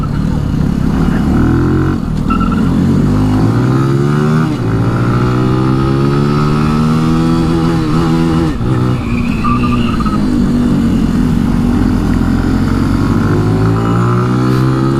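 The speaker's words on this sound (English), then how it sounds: "We're gonna race around the parking lot for a minute here" A 2018 Benelli TNT 135 motorcycle is raced around a parking lot, its small engine loud and close, revving up and down continuously with shifting pitch and no talk over it.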